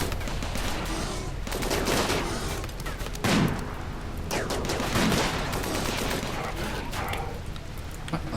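Rapid gunfire crackles through a colony battle in the video game Rimworld, dense overlapping bursts and volleys repeating steadily without letup, with a few heavier thumps mixed into the barrage.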